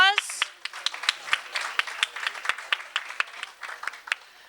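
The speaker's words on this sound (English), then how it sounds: "Yeah, give yourselves a round of applause." Participants at a city general plan workshop in San Mateo clap, distinct sharp individual claps from a modest group forming an uneven, lively rhythm, starting just after a brief voice.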